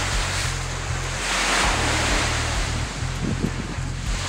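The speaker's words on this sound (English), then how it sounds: "So as the waves come up and crash on it, it just deteriorates over time." Waves wash against a rocky shore on Kelleys Island on Lake Erie, Ohio, a loud continuous surf rush mixed with gusty wind buffeting the microphone, with no voices.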